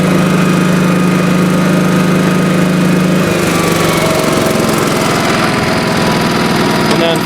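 A 1986 Honda HT3810 lawn tractor with a 10-horsepower engine drones steadily while mowing, loud and close, its pitch shifting partway through as the engine works under load.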